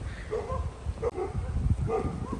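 Several dogs bark and yip from a yard in Georgia in late spring, a few loud barks and whimpering yelps at mid distance in a short burst, with no voices.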